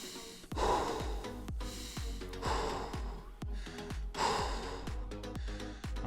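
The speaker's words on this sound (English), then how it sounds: "Breathing in through your nose, out through your mouth." A person breathes steadily in through the nose and out through the mouth during a full-body strength endurance workout. The breaths come in even, repeated cycles over a rhythmic backing beat.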